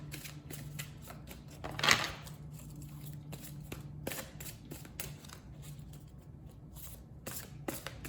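Oracle cards are shuffled and drawn by hand, giving soft rapid riffling and a series of crisp paper flicks and taps, close and quiet against a low steady hum.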